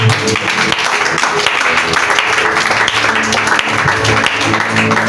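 A church congregation at a Sunday worship service applauds, a steady, loud wash of many hands clapping that fills the room without pause, with a voice faintly mixed beneath.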